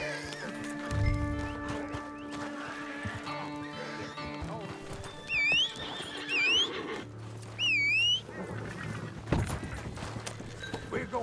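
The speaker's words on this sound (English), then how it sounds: "They got horses here they don't need." Horses in the video game Red Dead Redemption 2 Online whinny several times over clip-clopping hooves and game ambience, the neighs rising sharply in the middle stretch.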